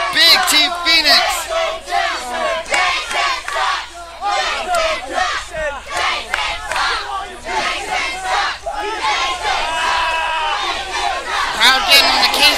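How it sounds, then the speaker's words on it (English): A wrestling crowd at a live RWA event, sustained loud jeering and shouting from many voices that swells and surges throughout, close and dense with no pauses. "Crowd getting on the case of Jason Devine."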